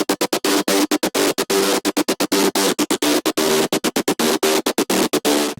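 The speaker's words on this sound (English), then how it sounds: "But I made this synth inside of Serum actually." A future-rave-style synth built in Serum, chopped into a fast, hard-gated rhythmic pattern of loud bright bursts separated by abrupt silences, dense and aggressive, with no voices over it.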